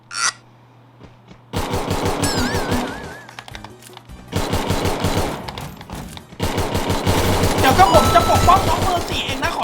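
Rapid automatic gunfire bursts in a shooting video game, loud and close, in three long stretches of dense rattling shots with brief pauses between, over game effects and background noise.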